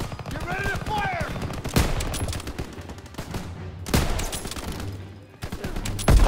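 Rapid gunfire and bursts crackle through a World War II shooter battle, close and loud, with shouted voices mixed among the shots.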